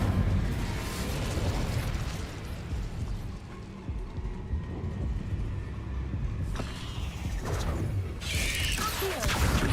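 A fire spell cast in Hogwarts Legacy roars and bursts in loud, rumbling whooshes with crackling blasts, followed by a couple of sharper crashes near the end.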